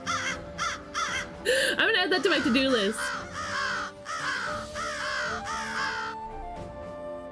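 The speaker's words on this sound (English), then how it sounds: "There's a scary crow here" A crow in the game Gales of Nayeli gives a string of loud, rhythmic harsh caws in bursts over about seven seconds, while a person talks briefly over the calls.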